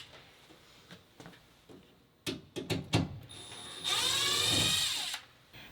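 On a Ford Transit high-roof extended van frame, a power driver backs out set screws in a quick series of sharp clicks and short whirs, followed by a longer, higher-pitched spinning run, close and fairly quiet.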